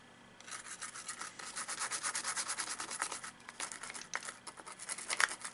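Rust inside an N64 game cartridge being scrubbed with isopropyl alcohol, a fast, steady, rhythmic scratchy rubbing that runs for several seconds, fairly quiet and close, with no talking.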